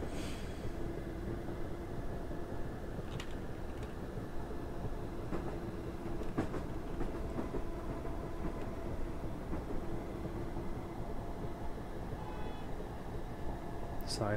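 A passenger train climbs a steep hill on a suburban Glasgow line in the video game Train Sim World 2021, producing a steady, continuous rumble of engine and wheels with a few faint clicks.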